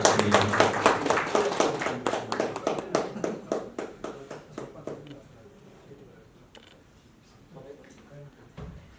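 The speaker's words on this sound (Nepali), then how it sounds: "उहाँको लागि जोरदार ताली" An audience gives loud applause for a prize winner at a rooftop farming competition final, the clapping dense at first and then thinning into scattered claps before fading out.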